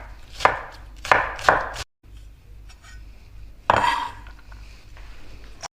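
A knife chops carrots finely on a board, with three quick loud chops and then a heavier knock and a clink of utensils, followed by softer scraping, all close up.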